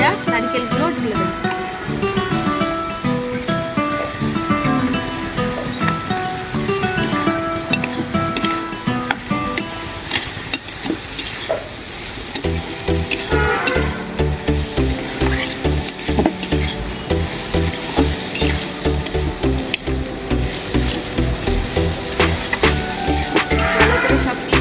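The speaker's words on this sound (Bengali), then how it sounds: "এবার ভাজা নারকেলগুলো ঢেলে দেব।" Fried coconut tips into a frying pan with potatoes and spices and is stirred: continuous scraping and rhythmic clinks over a frying sizzle, close and busy, with a voice speaking partway through.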